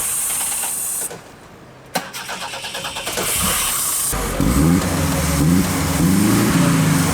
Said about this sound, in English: it's that familiar sound of a breakdown